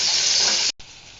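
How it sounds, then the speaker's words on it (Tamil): Onions and tomatoes sautéing in a pan for Pollachi-style mutton kuzhambu, a brief loud hiss that cuts off abruptly, followed by a quieter lingering sizzle. "வெங்காயம் பாதி வணங்குற ஸ்டேஜில் தக்காளி போட்டு நல்லா வணக்கிக்கலாம்"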